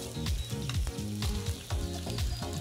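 Potatoes sizzle loudly in hot oil as they are flipped in a frying pan, a constant close crackle broken by a few brief scraping stir sounds.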